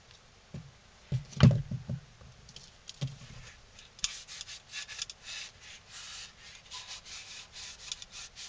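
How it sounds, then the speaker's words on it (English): A damp cloth wiping dust off a carved wooden ventriloquist dummy head, soft rubbing strokes up close, with a few knocks early and then a run of quicker scrubbing passes. "take a damp cloth and you want to wipe everything off to make sure you get all the dust off of it"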